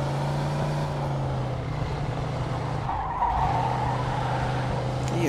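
Car engine droning steadily through Mafia 2 gameplay, with a brief tyre skid partway through; the engine tone drops out for a moment before resuming, close and continuous.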